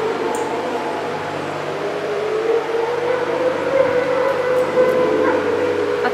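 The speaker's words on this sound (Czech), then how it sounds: "strašně moc psů, strašně moc ohrad, a teď to začalo vít a štěkat, ale šíleně" Many husky dogs howl together at a dog shelter, a sustained wavering chorus of howls with scattered barking, moderately loud and continuous without talk.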